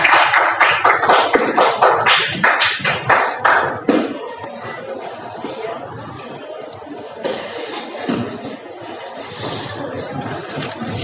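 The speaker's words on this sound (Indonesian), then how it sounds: "Tepuk tangan untuk kita semuanya." An audience of teachers at a training session claps in unison, opening with several rhythmic group beats before breaking into a looser, sustained round of applause that slowly thins out, loud and close.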